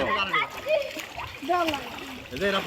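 Children splash while swimming and bathing in water, with loud splatter close by as children's voices talk and shout over it.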